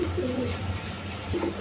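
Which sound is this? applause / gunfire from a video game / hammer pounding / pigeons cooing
pigeons cooing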